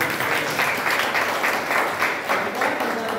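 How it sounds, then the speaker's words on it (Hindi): Audience applause after a theater club's staging of a Leo Tolstoy story: a steady, moderately loud round of clapping from a room full of people, with individual claps pulsing through the wash. "आपकी तालियां बजाइए"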